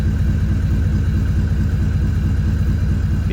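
Vehicle exhaust held at a steady idle, a close, loud, continuous low engine rumble with no revving or throttle changes, recorded during servicing before a trip.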